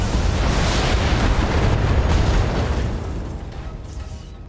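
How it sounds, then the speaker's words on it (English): Missile salvo launched from a mech in the video game BattleTech: a loud, dense roaring rush of launches and blasts that swells for a couple of seconds, then thins into a fading rumble. "let's just fire off the missiles"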